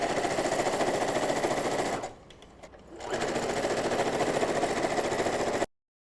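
A sewing machine stitches down the turned-up short edges of a fabric surgical mask, running in a steady rapid whir, pausing for about a second, then resuming at the same pace before stopping abruptly.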